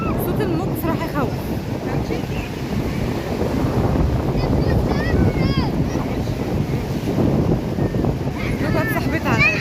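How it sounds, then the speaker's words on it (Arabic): Rough, high sea waves roar steadily onto a beach at sunset, mixed with heavy wind noise on the microphone, as people chat over the constant surf. "صوت الموج بصراحة يخوف."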